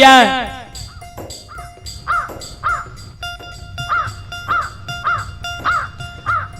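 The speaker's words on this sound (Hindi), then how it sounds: "कार कौआ बोल रहे" Crows caw again and again in a steady, evenly spaced series, loud and close, with a faint low murmur underneath, in a village setting in Samastipur, Bihar.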